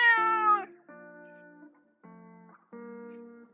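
A cat meows four times near a car being worked on, a loud rising first call followed by three shorter, steadier meows with brief pauses between.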